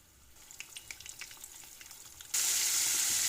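Coated pieces lowered one at a time into hot oil, for crispy fried bisaria; faint crackles and drips give way to a sudden loud, steady sizzle that fills the rest.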